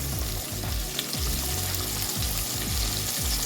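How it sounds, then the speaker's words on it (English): Flour-dredged quail fry in oil on medium-high heat, a close, steady sizzle and crackle with faint bubbling throughout and no speech. "I'm gonna put in my quail."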